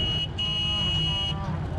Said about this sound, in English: Sabrina was behind me, and Amanda started honking.